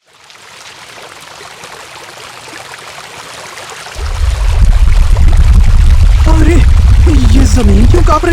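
Water gushes from a pipe in a cartoon story, beginning as a light rushing hiss and swelling after a few seconds into a loud, heavy, continuous pour with a deep rumble.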